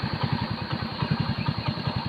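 A motorcycle engine idles close by, its steady, rapid putter pulsing evenly throughout.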